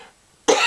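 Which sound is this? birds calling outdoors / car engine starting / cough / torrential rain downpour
cough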